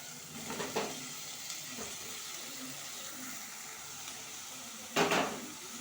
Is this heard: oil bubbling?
yes